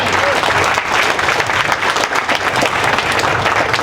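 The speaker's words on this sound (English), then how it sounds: "So let's hear it for Jake Paul" Audience applause at a press conference in honor of boxing promoter Jake Paul, a dense, steady clapping that holds loud and continuous for the full few seconds with a murmuring crowd mixed in.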